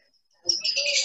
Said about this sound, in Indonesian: Ganggu sama suara burung.